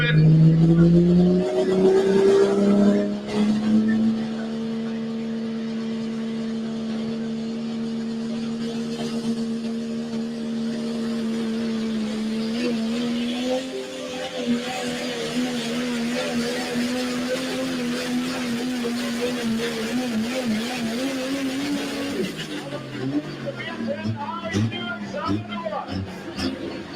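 A diesel truck roars loudly and steadily at a truck and tractor pull, its engine holding a sustained, slightly wavering drone for about twenty seconds before dropping off, with a crowd and a commentator's voice in the background.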